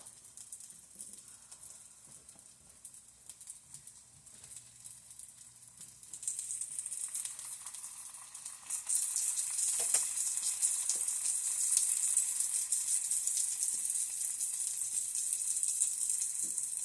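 Oil spreads and sizzles in a pan for a sausage and egg casserole, starting as a quiet crackle, then swelling in two steps into a loud, steady frying hiss, close by.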